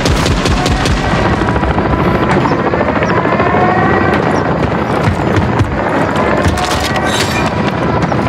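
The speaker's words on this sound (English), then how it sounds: "Attack helos pressing hard." An attack helicopter in Modern Warfare III, loud rapid rotor thumping close by, mixed with crackling machine-gun fire in a continuous, intense battle din.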